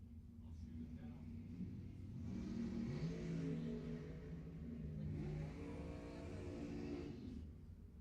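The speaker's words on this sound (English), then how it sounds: "Harry Olson in the Mustang will try to fend off Jason Wilson in the dragster." A Mustang and a dragster race down the strip at Lebanon Valley Dragway during ET finals, heard as a distant, faint rising engine roar with rumble, under a track announcer's commentary.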